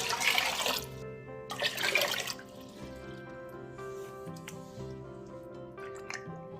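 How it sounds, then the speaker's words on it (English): Ten cups of water pour into a large pot for Korean chicken soup, coming in two loud splashing bursts a second or so apart, followed by quieter sloshing and faint clinks. "Pour 10 cups of water into a large pot."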